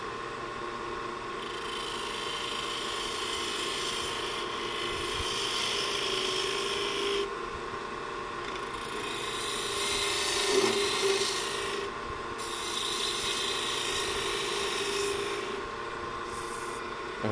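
Wood being cut on a lathe during spindle turning gives a continuous close scraping rasp that swells and eases as the tool moves along the spindle.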